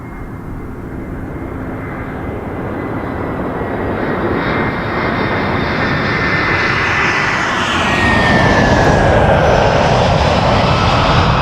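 A jet airliner takes off from runway 06 left at Toronto Pearson Airport, a loud, steady engine roar that builds and stays strong from start to finish, heard alone.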